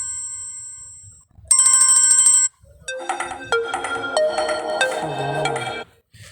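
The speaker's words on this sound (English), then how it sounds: "And you select the ringtone that you want." A melodic phone ringtone plays on a Samsung Galaxy A11: a brief high tone, then a sustained bright chime, then a fuller multi-note tune for several seconds, loud and clear with no talk.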